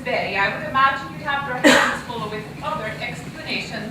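A single sharp sneeze bursts out between lines of indoor dialogue in an audio drama, brief and close, with people talking before and after.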